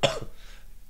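A single sharp cough from one person indoors in an apartment, a brief close burst at the start, then quiet, with another abrupt sound starting right at the end.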